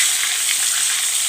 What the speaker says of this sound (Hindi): तकरीबन 5 मिनट हो गए हैं मेरे चिकन को फ्राई होते हुए